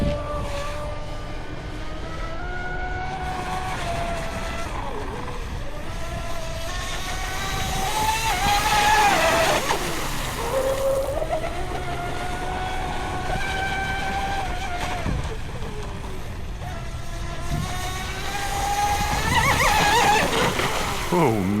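A Proboat UL-19 radio-controlled boat runs at about half throttle, its electric motor whining in high, sweeping tones that rise and fall repeatedly as it passes, with a person talking at times.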